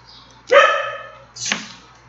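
A dog gives two sharp barks close by, about a second apart, with quiet room tone between.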